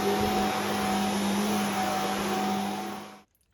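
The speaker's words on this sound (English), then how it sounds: "I've just finished hoovering" A vacuum cleaner hoovers with a loud, constant whine close by, holding steady and then cutting off sharply near the end, with no talking.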